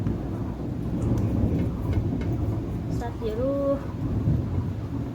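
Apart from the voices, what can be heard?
rain falling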